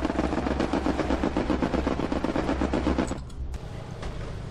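An air-support strafing run in Hell Let Loose, a dense rapid stream of heavy machine-gun fire hammering steadily for about three seconds before cutting off to a lower rumbling drone, loud and close.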